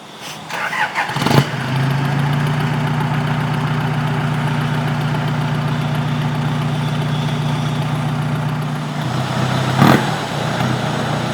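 A modified Toyota Innova with a heavily tuned engine starts up and settles into a steady, loud, deep idle close by, with a brief rev near the end.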